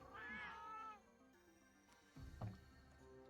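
Cat meowing up close, one drawn-out rising meow followed by quieter rustling and a short low thump.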